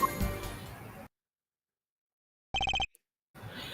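A telephone rings in the Apollo Justice: Ace Attorney video game: a short burst of rapid electronic trills, loud and isolated in a gap of silence between stretches of music and game sound.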